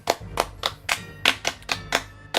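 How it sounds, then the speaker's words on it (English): Hands clap sharply at a steady pace, about nine crisp claps close to the microphone, with a low hum underneath. "This is how you clap."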